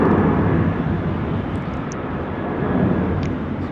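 A steady, loud jet roar from an Air New Zealand 103 airliner on final approach to land on runway 16 right at Sydney Airport fills the whole stretch with broadband engine noise.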